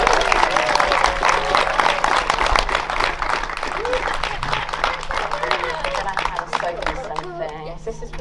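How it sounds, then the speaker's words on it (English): Sustained applause with clapping from a church congregation during an all-age baptism Sunday service, loud and steady for several seconds with crowd murmur underneath. "Let's give her a huge round of applause."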